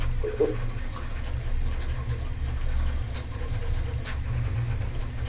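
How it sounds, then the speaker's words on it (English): A printer runs loudly close to the microphone, giving a continuous low mechanical drone with a few faint clicks and scrapes over it, and no voices. "Need the printer further away from the microphone. It's loud."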